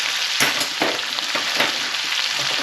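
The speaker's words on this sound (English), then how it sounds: "I'm just going to crispen it up now." Food sizzles and fries loudly in a pan for a savoury dish while a kitchen spoon stirs it, with a steady hiss and soft scraping strokes at a regular rhythm, close and without talk.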